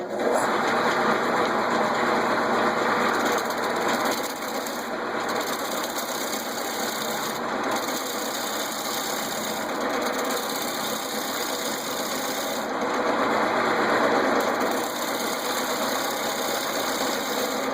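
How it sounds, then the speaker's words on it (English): A wood lathe turns a wooden cutting board while a chamfer is cut into its edge. A loud, steady motor drone runs throughout, with a continuous rough cutting hiss that dips slightly midway, and no talking. "I'm going to go ahead and cut my chamfer on both sides."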